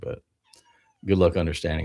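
A pet cat gives a short meow at the start, close and clear, followed by a pause and then someone talking over the quiet room.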